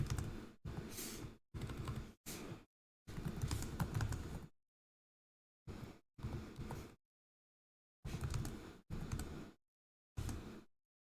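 Values typed on a computer keyboard, heard as short bursts of rapid key clicks separated by silent pauses, close and quiet, with no talking.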